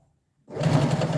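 A sewing machine stitching a dress starts up after a short silence and runs in a steady, loud, close whir with no speech.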